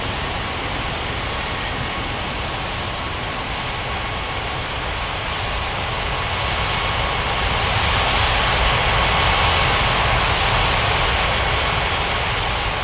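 Jet airliner engines in the Unmatched Air Traffic Control mobile game, a loud, steady broadband roar that swells slightly toward the middle and stays constant without talk.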